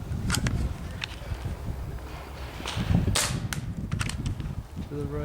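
Paintball gun shots from a scenario sniper setup firing fin-stabilised rounds, heard as several sharp, close pops over outdoor background noise, with a brief spoken remark.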